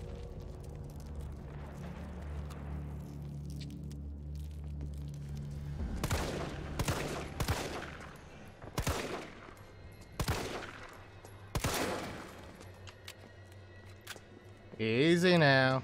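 Repeated gunshots from the Resident Evil 3 demo on Xbox One X, a quick cluster of sharp, loud reports spaced over several seconds against a low game ambience, with a brief rising effect at the end.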